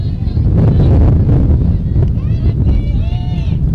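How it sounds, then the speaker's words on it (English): Loud, buffeting wind roars across the microphone at an outdoor softball game in Devils Lake, with faint whistling tones and distant voices underneath. "It's still pretty windy here at Devil's Lake"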